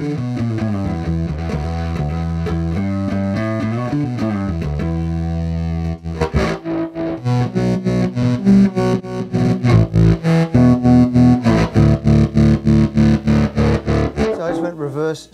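Electric guitar played through a Brassmaster fuzz pedal: heavily distorted sustained chords give way to a run of choppy, rhythmic fuzzed stabs, loud and close, with no talking.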